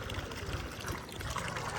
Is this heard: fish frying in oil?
no